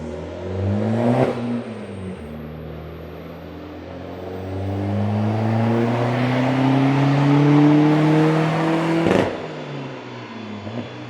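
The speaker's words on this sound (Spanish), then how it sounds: "vamos a empezar con este Ibiza 6L y con un intercooler enorme" A tuned Seat Ibiza 6L TDI diesel with a large oversized intercooler revs up, its engine note climbing steadily in pitch and loudness, with sharp bursts near the start and end as the throttle is blipped.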